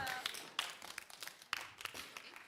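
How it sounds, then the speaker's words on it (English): Thin, scattered clapping rises from a small audience at a science contest, sparse and uneven, with a few sharper claps standing out over faint room noise and some quiet voices. "That was really weak applauding."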